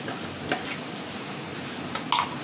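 Fried koi fish lifted from hot oil in a pan, a steady close sizzle with light scraping and a couple of sharp metallic clinks near the end.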